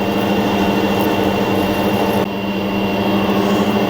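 Lathe turning a Harrison mill drawbar at 120 RPM, a loud steady mechanical whir and motor hum that runs continuously up close, with a slight drop in brightness partway through.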